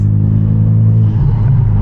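A Hyundai Genesis Coupe engine with a misfire runs in a low, heavy rumble heard from inside the car, its steady drone wavering unevenly near the end of this short burst.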